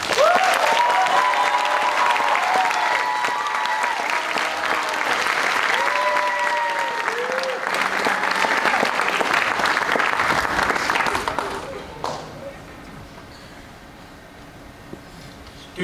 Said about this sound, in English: Can we please give another big round of applause to all of our speakers tonight?